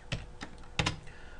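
Numbers tapped out on a computer keyboard: a few crisp, close key clicks in an uneven rhythm, with a quick double press near the end.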